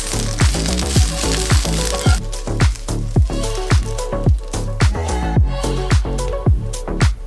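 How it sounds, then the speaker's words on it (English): Kale sautes in a hot pan with a loud, continuous sizzle and frying crackle, broken by regular soft stirring pulses, close up and without talking. "Saute that for like 3 minutes or until crispy and nice and dark green."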